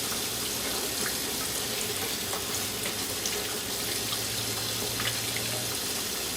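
A pressure cooker holding herbed chicken is cooled under a running kitchen tap, giving a steady broadband rush of water that is loud and continuous throughout, with no talking.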